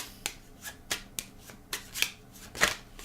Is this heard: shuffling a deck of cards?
yes